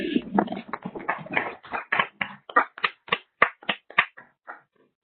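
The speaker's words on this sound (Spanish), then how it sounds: "Les pido por favor a todos brindar un fuerte aplauso a la ponente." A small audience at a conference session applauds the speaker: a few hands clap in a quick, uneven patter that gradually thins into slower, separate claps and fades out.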